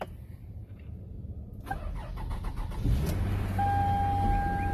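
A car bought at an IAAI auction cranks and fires up, then settles into a steady idle with a low engine hum, close and alone.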